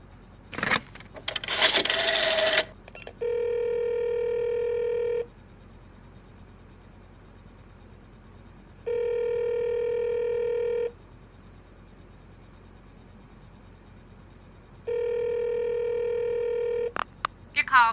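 A telephone is dialed in a radio drama: a short burst of dialing noise, then three steady electronic ring tones a few seconds apart over a quiet background.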